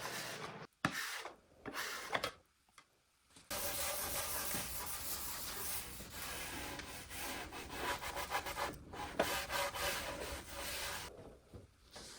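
A scraper rasps across the old finish of an oak table in long rubbing strokes, close and fairly quiet, broken by a few short pauses at the start and then continuing almost unbroken.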